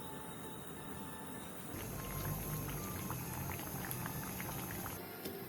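A pot of lotus root with vinegar bubbles at a steady rolling boil, a soft continuous gurgle with small pops, heard up close with no talking.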